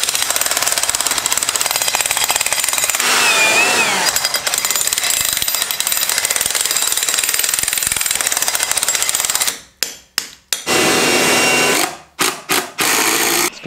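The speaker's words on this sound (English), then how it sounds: "we are drilling new holes in" A power drill bores new holes in a basement being rebuilt and gives a loud, continuous, close, buzzing grind. Near the end it stops and starts in several short bursts.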